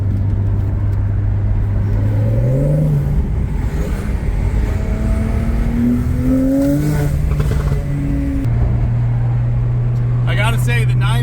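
A warmed-up Speed Yellow Porsche 996 in sport mode accelerates hard on city streets, the engine heard loud and close as its pitch rises, drops at gear changes and climbs again.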